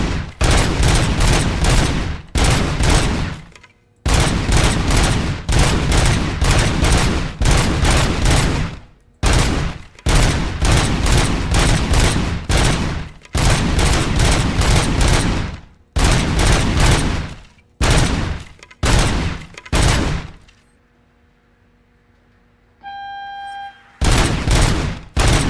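Gunfire from RoboCop's weapon in the game RoboCop: Rogue City: loud, sustained bursts of rapid shots with short gaps between them, then a pause filled by faint electronic tones before the firing resumes.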